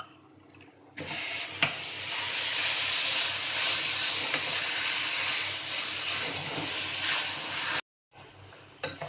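Marinated mutton hits a hot pan of fried ginger and garlic for a Bihari-style mutton karahi, bursting into a loud, steady sizzle and hiss with stirring scrapes that continues for several seconds, cuts out briefly, then resumes.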